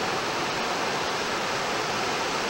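Small rapids on the Mayo River in North Carolina rush over a rock vein at high water, a steady, broad, loud roar of flowing water with no voices.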